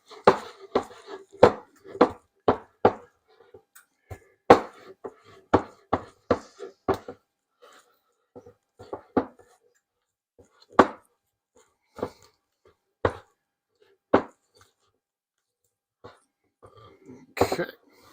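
Mayonnaise bread batter is mixed by hand in a bowl. Irregular, close knocks and dull thuds come in quick bursts, then grow sparser with quiet gaps between them.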